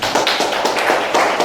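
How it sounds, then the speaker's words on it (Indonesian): Classroom applause for a group of students, a dense patter of many hands clapping close by in a steady burst with no voices. "Tepuk tangan dulu untuk kelompok 2."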